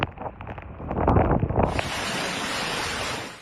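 Strong typhoon wind and rain lashing Basco, Batanes, with near-zero visibility: a loud, continuous roar of wind buffeting the microphone and driving rain, gusting unevenly at first and then settling into a steady, dense rush.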